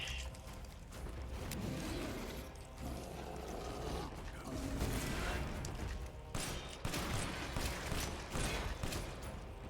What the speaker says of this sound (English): Reloading now.